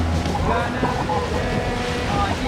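A sailboat moves under sail with its engines off. A steady broadband rush of wind and water runs throughout, loud and close, with wind buffeting the microphone and no clear voices.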